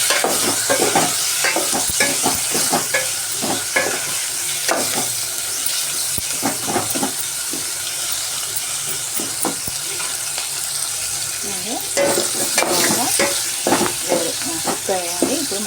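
Tomato masala for ghee coriander rice cooks in a pan, with steady frying sizzle and repeated scraping stirs of a spoon throughout, close and clear.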